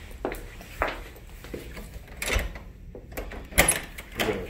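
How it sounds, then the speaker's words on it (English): A house door is opened to let a pet in, with a few scattered knocks, clunks and rattles at close range amid quiet room noise. "Let's go let Dimitri in the door."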